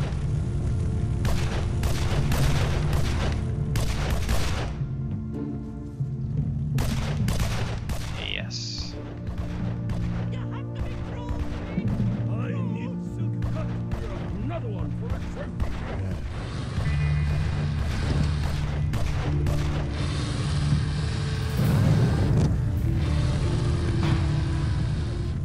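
Explosive booms and bursts of gunfire ring out in the video game Evil Genius as a pressure pad is shot and detonates, with repeated sharp cracks scattered throughout and a voice talking over them.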